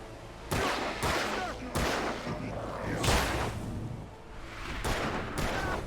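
Repeated gunshots in the Alan Wake video game, each a sharp burst spaced roughly every second, loud and close over a steady rumble of background action.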